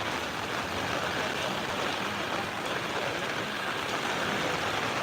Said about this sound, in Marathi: पावसाचा जोर फक्त बघा रिक्षा बंद पडत आहेत